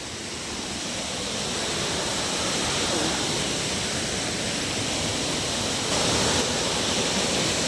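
Steady, loud broadband rush of water at Ganda Falls, a continuous roar filling the whole clip with no talk over it.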